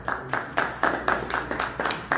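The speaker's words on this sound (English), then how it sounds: "Please, can we give a round of applause for him, please?" Audience applause at a live investment conference in Vancouver, Canada: a crowd claps in a steady run of evenly spaced, fairly loud bursts, with no talk over it.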